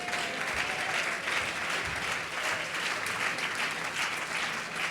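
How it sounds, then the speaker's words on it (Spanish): Sustained applause from a church congregation during a sermon, a steady dense wash of clapping that fills the whole stretch without pause or voices. "Ese aplauso es para la gloria de Dios"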